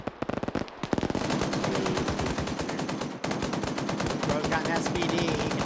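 Rapid automatic gunfire in a video game match, with an SVD rifle involved, firing in sustained loud bursts with a short pause, the rattling shots dominating throughout.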